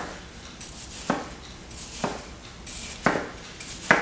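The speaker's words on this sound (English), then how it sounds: "What I want to do here is I want to take it to very thin slices." A knife slices a watermelon into very thin slices, making four sharp, evenly spaced cuts on a board against quiet kitchen background noise.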